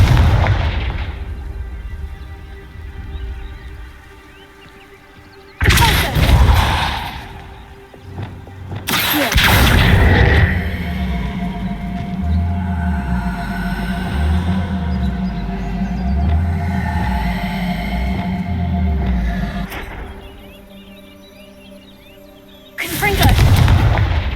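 Confringo blasting spell explosions in the Hogwarts Legacy video game: loud, booming blasts rip out at intervals over a rumbling combat soundscape with low pulsing music, several heavy impacts in quick succession.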